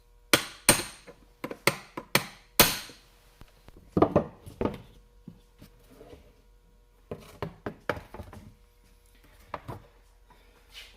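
Sharp metal hammer blows knocking pins out of a 2016 Cub Cadet LT50 lawn tractor's grass discharge chute mounting bracket, close and loud, with irregular strikes in clusters and pauses between them.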